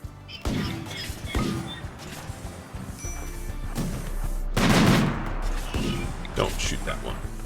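Gunfire from the colony video game RimWorld sounds in repeated sharp volleys, with a heavy burst midway, all heard under a continuous spoken commentary.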